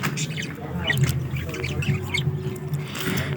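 Budgerigar pairs in a breeding cage where they have laid eggs give repeated sharp squawks and chirps close by, mixed with a low background hum and a faint voice.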